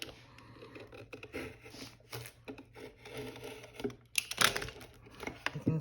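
A slightly dull knife cuts cardboard for an explosion box, giving close scraping, crinkling strokes in irregular bursts, with a louder rasping cut near the end.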